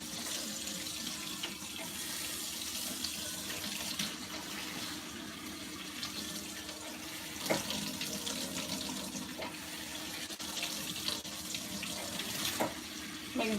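Tap water runs steadily into a kitchen sink while a pan is rinsed under it, the splashing stream close and continuous with a few clinks and sharper spatters.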